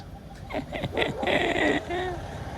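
A dog whimpers and yips in short, high, whiny bursts, close by, followed by a longer drawn-out whine.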